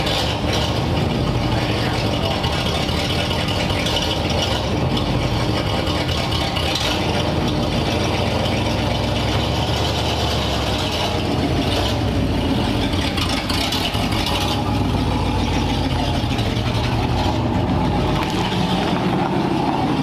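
A 1940 Ford Tudor with a freshly repaired carburetor and exhaust drives along, its engine a loud, continuous drone blended with road rumble and scattered rattles from inside the car.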